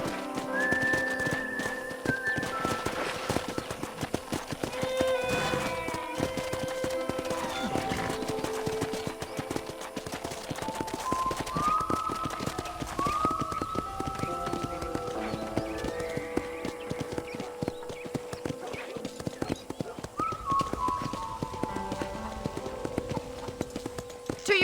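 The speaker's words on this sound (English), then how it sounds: "I picked out a fine horse for you." Horse hooves clip-clop steadily in Red Dead Redemption on a ranch, with a few whistled or whinnying tones rising above the continuous trotting rhythm.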